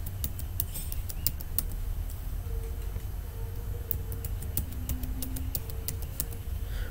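Scattered keystrokes on a computer keyboard tap out a password, light irregular clicks over a steady low hum of room noise, with no talking.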